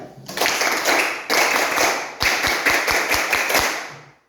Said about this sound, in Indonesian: Tepuk 337, mulai.